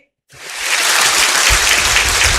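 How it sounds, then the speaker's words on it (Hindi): An audience at a quiz competition breaks into sudden loud applause for a participant, the clapping starting abruptly after a short silence and holding steady and close. "तालियां हो जाए पार्टिसिपेंट ए के लिए।"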